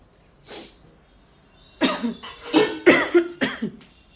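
One cough from a child with a cold, a pause, then a quick run of several harsh coughs close by.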